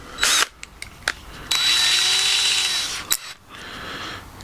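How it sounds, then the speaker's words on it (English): A handheld power drill spins a small drill bit, its steady whine running for about one and a half seconds between brief clicks and short bursts of motor noise. "Trusty drill."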